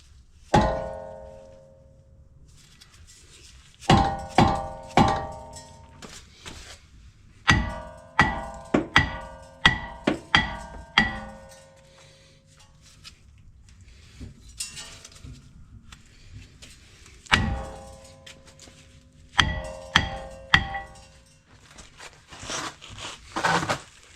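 Hammer blows against a seized brake rotor on a Dodge Durango, landing in several quick bursts of hard metallic thunks with brief ringing, separated by pauses, loud and close with no talking.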